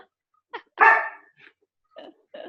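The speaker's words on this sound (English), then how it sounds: "Dan, is that your dog? If so, hit mute" A pet dog barks at home during a phone call: one short yip, then a loud drawn-out bark, then a few smaller barks and whimpers, close and with no voices.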